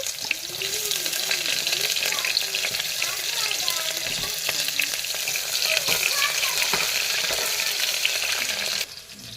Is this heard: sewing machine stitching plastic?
no